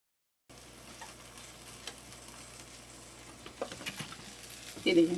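A folded tortilla wrap heats in a hot pan and gives off a faint, steady sizzle that grows a little louder toward the end, with scattered light ticks and pops over the quiet frying.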